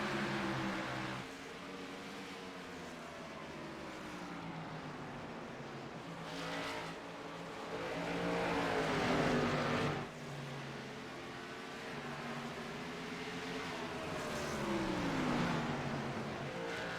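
Race cars roar around a track through lapped traffic, several engines whining and rising in pitch as they pass close, with revving surges and fading tails over a steady mechanical drone.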